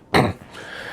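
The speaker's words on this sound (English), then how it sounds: "let me clear my throat" A single short throat clearing, close and fairly loud, a quick rough burst followed by quiet room tone.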